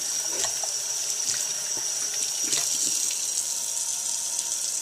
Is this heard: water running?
yes